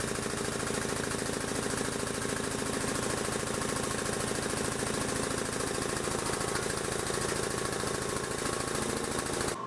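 A finger brake bends a 4-inch wide strip of 1/4 inch steel plate, the machine droning with a steady, loud, rapidly pulsing mechanical chatter that holds unbroken for about ten seconds before cutting off at the end.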